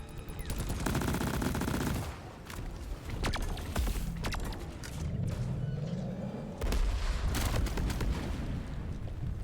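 Rapid automatic gunfire from the cooperative dwarf mining shooter Deep Rock Galactic, dense sustained bursts with sharp reports running loud through the whole stretch, broken by brief pauses and layered with crunchy impacts and game effects.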